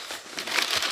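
Paper packaging from a box of golf irons crinkles and rustles in short, close, uneven bursts of crumpling during an unboxing, with no voices.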